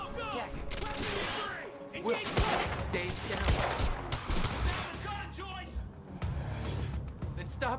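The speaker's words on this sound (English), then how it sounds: "stop fucking shooting at us!" Sustained gunfire from the Quantum Break game, with dense overlapping bursts and crackling shots filling the whole stretch, loud and continuous, while shouting voices and game dialogue run beneath and between the volleys.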